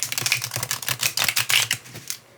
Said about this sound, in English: Even I can shuffle these cards.